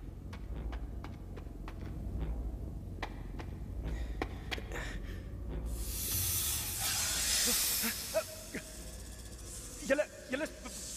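Several snakes give a loud, sustained hiss that swells up near and lasts a few seconds, with scattered clicks and footstep-like taps before and after it.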